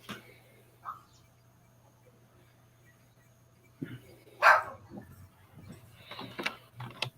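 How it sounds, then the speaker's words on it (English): A small dog barks a few times in sharp bursts toward the end, moderately close, over a quiet room with a low steady hum. "That's Tommy's dog, by the way, Gizmo."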